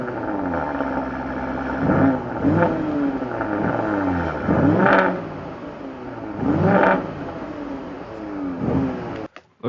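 An Audi RS5 engine revs repeatedly with a deep exhaust growl, its pitch climbing and falling in several surges over a steady throaty rumble, close and loud, then cutting off abruptly at the end.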